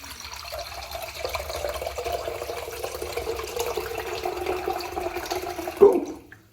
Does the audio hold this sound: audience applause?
no